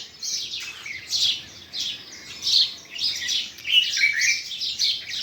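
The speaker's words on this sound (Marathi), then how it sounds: "छान छान पक्षी त्यांचा आवाजच येते" Birds chirping repeatedly in quick bursts of bright, high tweets, moderately close, with no talking.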